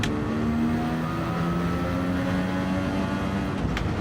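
A Gran Turismo 7 race car engine drones steadily at high revs, its harmonic whine shifting slightly in pitch as it accelerates and eases off, with no voices.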